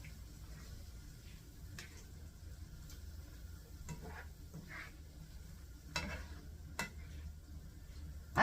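Cream cheese melts with cream in a pan for a green bean stroganoff, giving a faint, soft sizzle under scattered stirring scrapes and a few sharp clicks of a utensil against the pan.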